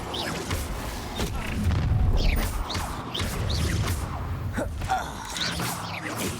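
Incendio fire spell cast in Hogwarts Legacy, a series of whooshing bursts and fiery booms with rushing swells and sharp crackling hits, loud and close amid game combat.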